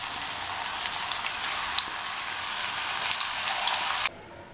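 Slices of raw banana deep frying in hot oil give a steady close sizzle and crackle that runs evenly for about four seconds, then cuts off abruptly, with no talking.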